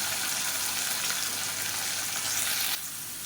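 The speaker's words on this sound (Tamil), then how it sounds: "காலிஃப்ளவர் சேர்த்து நல்லா ஒரு ரெண்டு பரட்டு பரட்டி விட்டுட்டு" Boiled cauliflower and chopped garlic fry in a pan with a dense, steady sizzle and faint stirring, then the hiss drops abruptly to a quieter level near the end.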